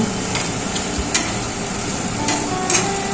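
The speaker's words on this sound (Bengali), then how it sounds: "এবার সব কিছুর সাথে নেড়ে চেড়ে নিচ্ছি" A cabbage chop mixture with beaten egg is stirred in a frying pan. A continuous sizzle runs under several clear clinks and scrapes of the spatula against the pan, close up with no talking.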